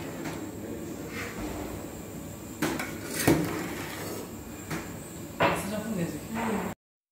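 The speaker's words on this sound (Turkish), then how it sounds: "Karıştırmaya devam." A huge pot of aşure, sized for hundreds of servings, is stirred with scraping knocks and clanks of a large utensil against the metal, a few sharper hits standing out over a steady low background.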